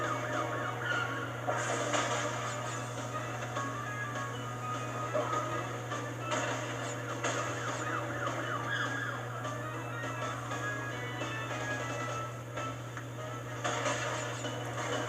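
Police car sirens in the Crash Bandicoot 3 video game wail continuously at moderate volume over the game's busy music and effects.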